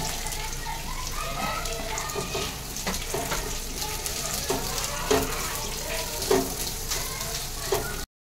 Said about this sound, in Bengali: এবারে সবজিগুলো সব আমি একসাথে দিয়ে দেবো।